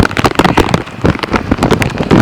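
Heavy rain pours down during a thunderstorm in Vancouver, Washington, a dense, loud wash of close spattering drops with no voices.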